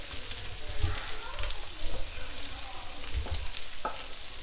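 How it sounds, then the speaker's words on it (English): Cheese sauce of Parmesan, mozzarella, cream cheese and margarine simmering and thickening in a pan, a steady close bubbling sizzle with a few stirring scrapes and clinks. "We're going to let it cook down. It'll thicken up from the cheese, obviously."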